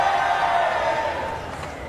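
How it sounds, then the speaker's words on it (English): Crowd noise from an audience at the MCM Expo London show in 2010, a sustained wash of many voices that swells briefly and then fades slightly. "the crowd are voicing their opinion"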